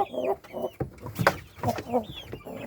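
A fighting rooster of an old game breed gives several short clucks and throaty calls nearby, in uneven bursts against a quiet background.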